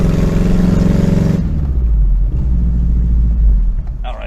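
A lifted Daihatsu Feroza's engine roars loud and close through side pipes, a heavy rumbling rev that drops to a lower steady drone partway through.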